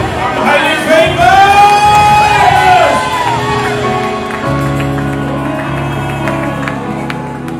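A church congregation claps and shouts in loud, overlapping bursts of cheering and whooping, with a preacher's amplified voice over the crowd before the noise settles into a steadier hum.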